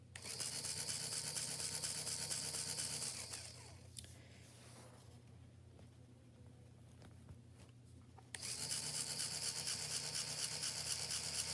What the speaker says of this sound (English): It pumps up fairly quickly.